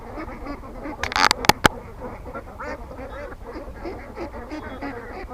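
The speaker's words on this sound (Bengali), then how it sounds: "দেখুন প্রচুর পরিমাণে হাঁস" Many ducks on a large duck farm quack and honk continuously in a dense, nearby chorus. A few sharp knocks ring out early on.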